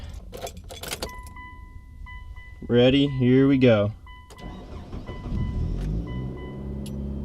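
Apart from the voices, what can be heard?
2002 Mitsubishi Lancer engine starting up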